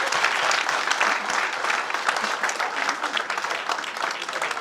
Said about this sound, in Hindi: बजाइए ताली आप लोग